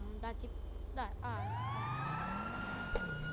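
A police car siren wails in a steady rising and falling tone, close and loud, heard from inside the car while people talk over it.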